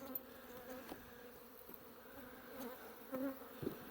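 Honey bees buzz in a huge swarm inside the bottom box of a hive, a quiet, close, wavering hum with a few sharper buzzes passing near toward the end.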